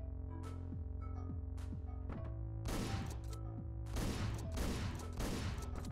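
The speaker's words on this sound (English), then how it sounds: "What are you shooting at?" Gunfire in the top-down action game Hotline Miami, several sharp shots in quick bursts over a steady pulsing synth soundtrack, with no talking.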